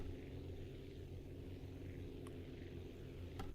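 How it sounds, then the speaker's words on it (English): A steady low engine drone from a helicopter in the video game Aviassembly hums continuously and fairly faintly, with a couple of brief sharp clicks near the end. "Okay, so we do have a helicopter now."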